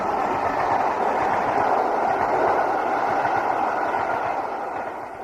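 A model steam train speeds out of a town past a harbor toward a tunnel, a steady broad rumbling roar that holds evenly and then slowly fades toward the end.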